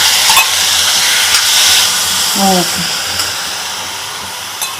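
Drumstick (moringa) chutney ingredients fry in a pan with a steady hissing sizzle and a few stirring knocks, fairly loud and close, with no one speaking.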